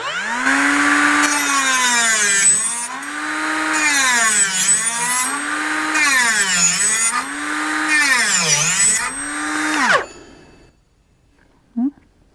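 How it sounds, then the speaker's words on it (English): A Hyper Tough 12V cordless cutoff tool cuts through plastic in a high whining buzz that rises and falls in pitch over repeated passes for ten seconds, then cuts off, followed by a single brief clink. "And the plastic, with the blade going the right way this time."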